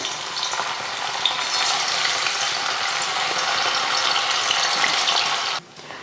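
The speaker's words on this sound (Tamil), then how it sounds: "நெத்திலி மீன் அரை மணி நேரம் நல்லா ஊறிடுச்சு இப்போ பொறிச்சு எடுத்துடலாம்" Marinated anchovy fish fry in hot oil, giving a loud, continuous bubbling sizzle that holds steady before dropping off abruptly near the end.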